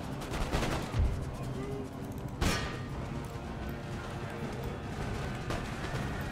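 Howitzer artillery fires in Empire: Total War, a few heavy booms sounding over scattered battlefield gunfire with someone talking throughout.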